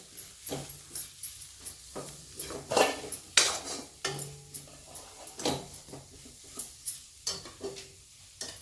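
Ground dal and peanut powder are sautéed in a pan for palak sabji, with a spoon scraping and knocking against the metal in irregular close strokes over a soft sizzle, and no voices.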